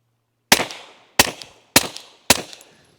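Four sharp, loud reports from a 9mm-class pistol fired through a Microtech R2K9 modular suppressor with its end cap removed, spaced roughly half a second apart, each with a short decaying tail.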